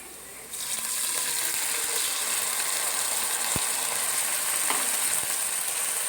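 Boiled, cut mutton sautéing in hot oil in a pan, a steady loud sizzle running throughout after a sudden start, with occasional utensil clicks and scrapes and no voices.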